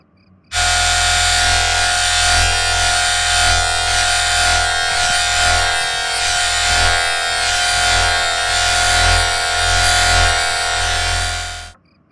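Electric shaver buzzing steadily as it shaves off hair, a loud continuous close-up drone with a slight pulsing rhythm, starting abruptly and cutting off after about eleven seconds.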